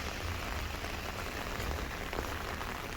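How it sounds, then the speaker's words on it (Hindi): Steady, dense rain pours down, a constant wash of drops hitting surfaces with no pauses, close and fairly loud throughout. "ये देखें कितनी बारिश हो रही है"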